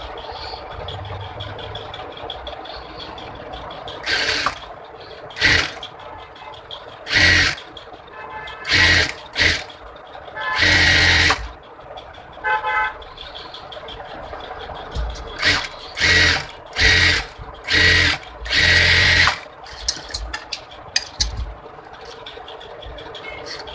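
A sewing machine stitches a bra cut blouse in repeated short bursts of rapid whirring, starting and stopping irregularly, close and clear with quiet gaps between runs.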